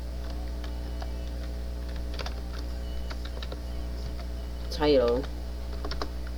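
Computer keyboard keys tap in short sparse bursts as code is entered during Python web scraping, soft clicks under a steady hum, with a brief spoken word partway through.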